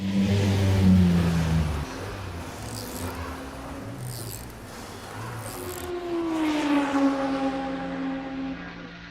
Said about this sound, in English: Right, the cars are coming around.